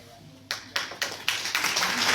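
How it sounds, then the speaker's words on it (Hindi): Applause builds from silence, starting with a few distinct claps that quickly thicken into steady clapping from a small group at an awareness programme in Udhampur. "तालियां बजाइए जोर से।"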